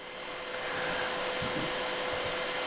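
A steady, close mechanical whir of a machine running, like an ASIC miner's fans, constant and fairly loud with no voices.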